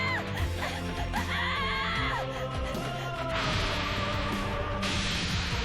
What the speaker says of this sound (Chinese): 尖叫着转头就跑